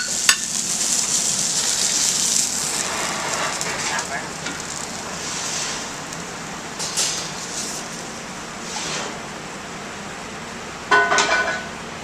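Snapper and salmon fillets pan-searing with herbs give a steady, close sizzle that runs throughout, with a few brief clicks and scrapes near the end.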